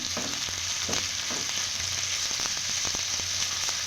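Chopped onion and tomato fry in hot oil with a continuous sizzle while a spatula scrapes and taps against the pan in quick irregular strokes.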